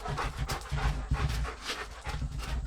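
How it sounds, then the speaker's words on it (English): A full-blooded female German Shepherd pants in quick, steady, breathy bursts close to the microphone, with no other sound competing. "that is our dog Xena"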